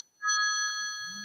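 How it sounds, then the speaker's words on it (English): A phone rings with a single sustained electronic chime that starts abruptly and holds steady, fairly clear and close in an otherwise quiet room. "Did everybody hear that phone ring?"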